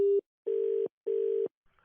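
Telephone tone after a call is cut, heard as two steady repeated beeps after a short initial one, clean and close on the line.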